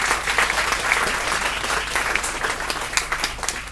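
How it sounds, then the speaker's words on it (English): Large audience at a Camden community celebration applauding, continuous loud clapping with crowd noise that holds steady throughout. "Give yourselves a round of applause."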